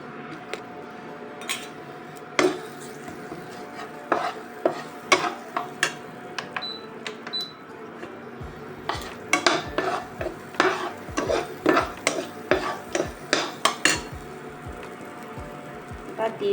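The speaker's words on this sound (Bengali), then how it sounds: "ওই তেলের মধ্যে দিয়ে দেবো পেঁয়াজ কুচি সামান্য" A metal spoon scrapes and clinks against a pan as chopped onion is stirred in hot oil, sharp irregular taps and rasps over a faint frying hiss, with someone speaking intermittently.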